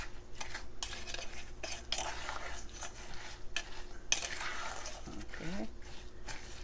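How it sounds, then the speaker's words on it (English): A sweet potato casserole topping is mixed in a bowl with a utensil, producing repeated scraping and clinking strokes in an uneven rhythm, close up, while a voice speaks briefly. "And you just mix this up together."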